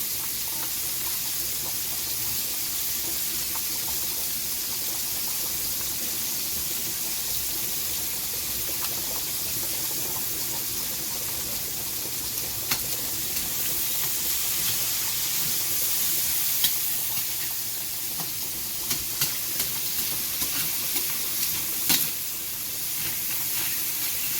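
Salted, peppered British bangers sizzle in a pan, a steady dense hiss of frying that continues for the whole stretch, with small pops and spits growing more frequent toward the end.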